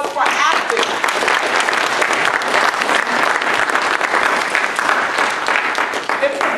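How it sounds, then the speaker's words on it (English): Loud, sustained applause from a crowd at a Black History celebration event, many hands clapping in a dense, even roar close by for over six seconds, with a faint voice briefly near the end. "Please give yourselves a round of applause for acting."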